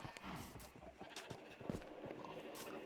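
Horses in a video game farm, their hooves clip-clopping in quick, faint, irregular steps beside a soft snort, with a voice speaking over them.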